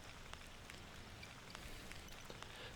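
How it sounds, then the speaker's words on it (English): Steady light rain patters around an airport, a faint even hiss of drops with scattered ticks on hard surfaces, no voices. "Rain's here as far as I'm concerned"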